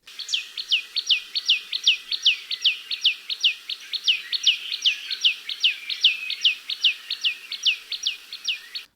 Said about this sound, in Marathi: हा आहे शिंपी पक्ष्याचा आवाज त्याला इंग्रजीमध्ये कॉमन टेलर बर्ड म्हणतात